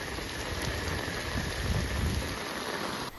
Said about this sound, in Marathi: काल रात्रीपासून सुरू असलेल्या मुसळधार पावसामुळे संगमेश्वर येथील रामपेठ आठवडा बाजारात पूरसदृश परिस्थिती निर्माण झाली आहे